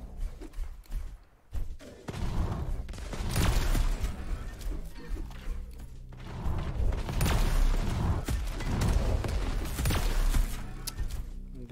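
Rapid weapon fire from a fast arena shooter, Diabotical, in a competitive duel, dense bursts of shots and impacts running almost continuously at a steady loud level, with a brief lull near the start.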